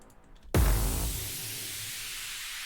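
Hardstyle lead built in FL Studio 20: a brass synth layered with a kick hits suddenly after a short quiet lead-in, a loud punchy low thump with a bright buzzing sustain that slowly fades, no voice.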